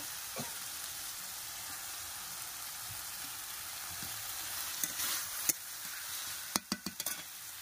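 Rupchanda fish frying in hot spice paste makes a soft, continuous sizzle, with sharper crackles and stirring scrapes toward the end, heard close without talk.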